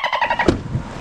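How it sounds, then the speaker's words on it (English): A car rushes close past in a quick whoosh that swells and fades within about a second, preceded by a brief rhythmic pulsing and followed by a lower road rumble. "Oh, damn, I almost hit that car"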